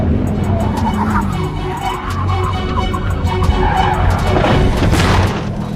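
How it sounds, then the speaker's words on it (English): A Lamborghini skids on a wet road, its tires hissing loudly and steadily as the car slides out of control toward a fence, with engine noise underneath. "Darius failed to see a wet patch of road and slid out of control, crashing into a fence."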